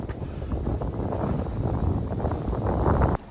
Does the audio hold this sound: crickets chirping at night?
no